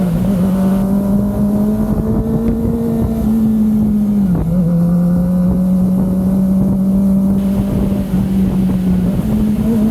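A loud, steady inline-four engine drone from a 2023 Kawasaki Ninja ZX-25R 250cc sport motorcycle at cruising speed, pitch rising and falling slightly, heavy wind rushing over the microphone throughout.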